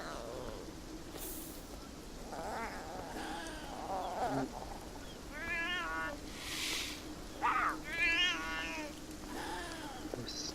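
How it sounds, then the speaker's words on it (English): Cats meowing in the video game Beyond Eyes: several separate, drawn-out meows from mid-range to near, rising and falling over a steady low hum and a faint buzzing background. "Those cats are horrible."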